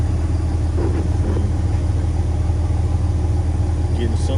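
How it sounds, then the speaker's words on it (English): A step van truck's engine idles steadily nearby, a constant low rumble with a faint rhythmic pulse throughout, while a person talks quietly over it. "I turned the truck back on and went to 14."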